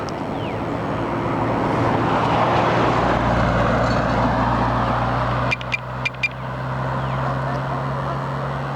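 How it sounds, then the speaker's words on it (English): A Jeep passes on a street, a broad engine and road rumble that swells and fades, followed by a few sharp short clicks near the end. "We'll let the Jeep pass"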